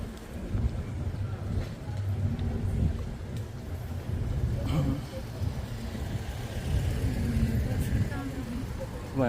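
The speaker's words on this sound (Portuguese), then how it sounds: "Vai passar carro." A car passes along a street in the old town of Budva near the beach, a steady broadband rumble and road noise that swells and fades, with wind buffeting and people talking over it.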